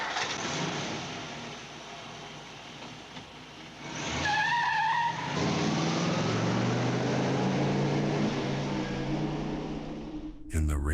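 A car engine starts and the driver floors the pedal, tires skidding and squealing with rising engine roar, loud and close, ending in an abrupt bang.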